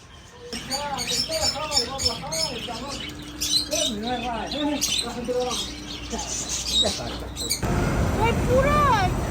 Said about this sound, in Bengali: দেখলাম এখানে অনেক রকম পাখি আর বিড়াল